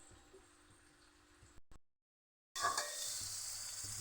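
Vegetables frying in oil for a dal give a soft, steady sizzle that cuts out to silence for under a second, then returns louder and brighter.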